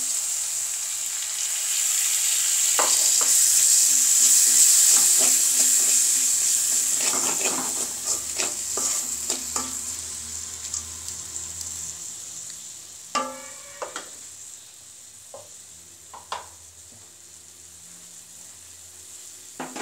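Red lentils sizzle in a hot pan for a breakfast vegetable dal, a steady frying hiss that swells early then settles, broken by sharp scrapes and clinks of a spoon stirring toward the end.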